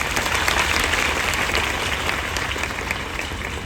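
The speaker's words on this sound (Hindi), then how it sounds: "उसके लिए तो एक ज़ोरदार ताली होनी चाहिए।" A gathered audience claps loudly and steadily, a dense, even wash of applause that holds at full strength from start to finish.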